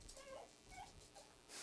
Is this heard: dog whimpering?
yes